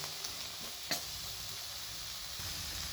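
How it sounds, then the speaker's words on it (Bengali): Carrots, peas, green beans and chilies sizzle steadily in hot oil in a pan, a continuous bright hiss with a brief louder crackle near the start, no talking. "এবার এটা আমি খুব ভালোভাবে ভাজা ভাজা করে নেব।"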